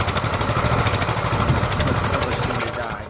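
A Coleman minibike's small engine runs steadily nearby with a rough, buzzing drone that fades slightly toward the end.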